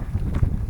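Wind gusts buffet the microphone on a hiking trail lined with trees, a low, steady rumble with a couple of stronger puffs in a brief moment.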